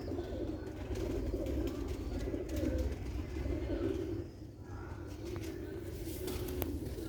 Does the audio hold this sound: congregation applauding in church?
no